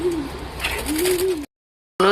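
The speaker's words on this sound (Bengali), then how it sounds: "এই ঘুঘু পাখি" A kept dove on a home veranda cooing close by, a soft low call that rises and falls twice before a brief break.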